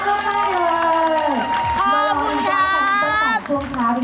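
Staff and fans applaud together at a live fan event, scattered clapping running under loud cheering voices and tonal music-like sound that dominates throughout.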